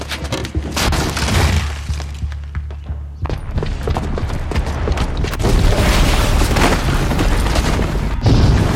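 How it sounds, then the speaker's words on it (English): A booby-trapped bomb explodes in the Horizon Zero Dawn video game, a deep booming blast followed by rumbling debris and crashing, loud and sustained, with a brief lull before the roar continues. "the booby trap on the bomb downstairs is gonna get set off"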